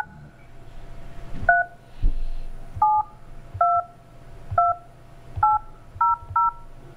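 Touch-tone telephone keypad dialing a number: a sequence of about nine short dual-tone beeps at uneven intervals, clear and fairly close over a faint low background hum, with no talking.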